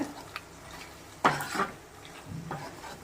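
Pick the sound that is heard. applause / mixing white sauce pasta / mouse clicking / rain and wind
mixing white sauce pasta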